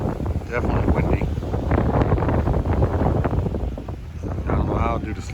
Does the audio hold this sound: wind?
yes